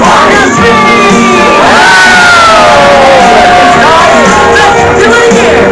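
Children at a Chuck E. Cheese birthday party scream together in a loud, sustained burst of shrill shouting and whooping that rises and falls over several seconds.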